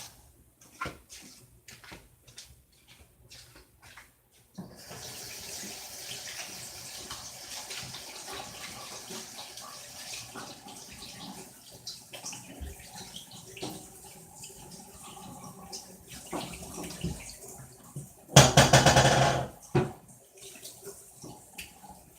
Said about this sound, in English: Let me go rinse my hands off right quick.